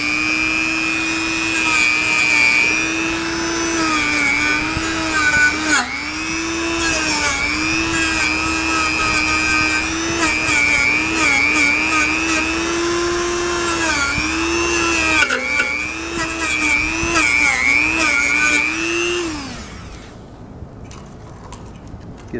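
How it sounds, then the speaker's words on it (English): A motorized wire brush burnishing a part on a General Electric Monitor Top refrigerator, model CK-2-C16, gives a steady loud whine with a shifting pitch for about twenty seconds before it winds down. Nobody speaks. "I'm going to hit it with the wire brush a little bit and try to kind of burnish it"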